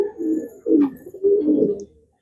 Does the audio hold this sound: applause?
no